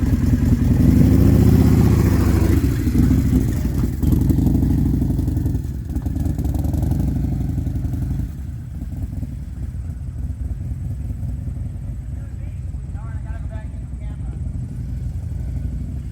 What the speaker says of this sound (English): I'm gonna get on this bike.